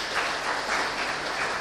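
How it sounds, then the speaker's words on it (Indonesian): Applause from a church congregation, a short burst of many hands clapping together, even and moderately loud. "Kita beri aplaus untuk."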